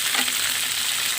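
Leftover frying oil sizzles steadily up close as sautéing begins for chicken adobo, a dense, even hiss that runs without a break.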